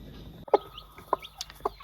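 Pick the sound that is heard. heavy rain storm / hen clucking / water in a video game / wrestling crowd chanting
hen clucking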